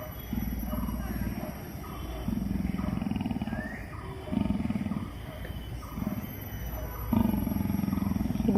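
A tiger at a zoo growls in deep, rumbling pulses that come in a steady rhythm, close and continuous, while people's voices murmur softly in the background.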